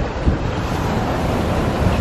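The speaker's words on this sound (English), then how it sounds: "We're by the ocean." Ocean surf and gusting wind on the coast roar steadily and loudly, with heavy wind buffeting on the microphone and no one speaking.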